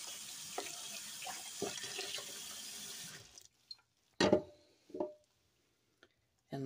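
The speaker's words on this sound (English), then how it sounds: "So I'll kind of give it a good wash. I'll give it a rinse off." Running tap water splashes steadily as a cast resin diorama piece is rinsed, then the flow stops and a few knocks and handling sounds follow in near silence.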